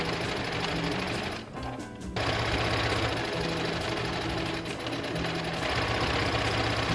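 A sewing machine stitches purple ruffle fabric for a thrifted button-down shirt, running in a loud, steady mechanical whir that pauses briefly partway through, with no voices.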